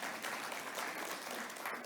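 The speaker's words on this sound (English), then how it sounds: "Can we give him a round of applause, please?" Steady applause from a business conference audience, a dense wash of clapping that holds for a couple of seconds, moderately distant and evenly loud.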